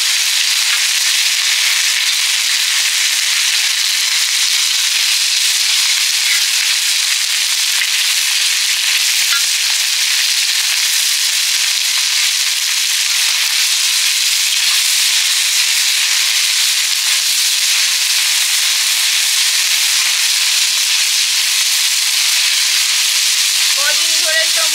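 Egg chicken chowmein stir-fries in a wok with a loud, steady sizzle and hiss, continuous and close throughout with no pauses.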